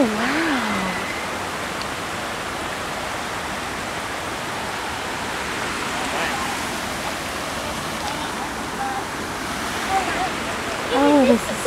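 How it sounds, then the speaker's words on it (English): A waterfall pours steadily into a creek, a constant broadband rush of falling water that holds even throughout, with people exclaiming over it at a few points. "You're inside the waterfall."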